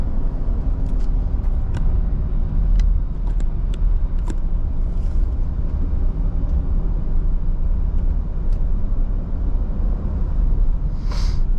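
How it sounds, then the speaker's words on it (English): A 2017 Mercedes-Benz SL65 AMG with a twin-turbo V12 and seven-speed automatic cruises along the road, giving a steady, loud low rumble of engine and tyre roar that holds constant throughout, with a few faint ticks and no talking. "we're just gonna drive this car right back to the shop"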